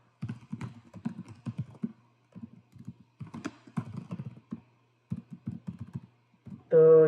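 Rapid clicky typing on a computer keyboard comes in uneven bursts with short pauses, close and distinct, ending in a brief tonal beep.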